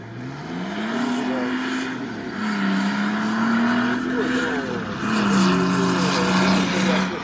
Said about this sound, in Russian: Ну, там серьезная машина прогревается.